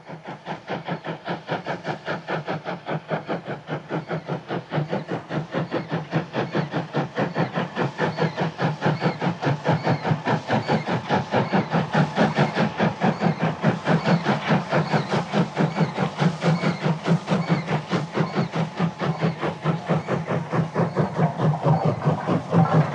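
Vintage North British Railway 0-6-0 steam locomotive Maude, built 1891, chuffs in a steady rapid rhythm with hissing steam and rolling wheel clatter, continuous and moderately close for the whole stretch.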